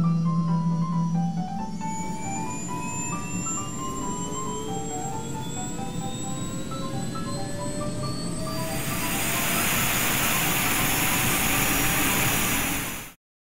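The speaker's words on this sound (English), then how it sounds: "Air tanker." An air tanker's jet engines start with a high whining tone, then build into a loud, broad roar that holds steady before cutting off abruptly at the end.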